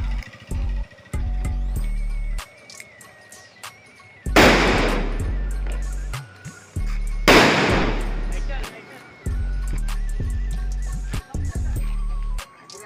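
Firecrackers bursting at a Bhim Jayanti street celebration in Ghansoli, Navi Mumbai: two loud sharp bangs a few seconds apart, each with a crackling tail, over a steady crowd-and-music background.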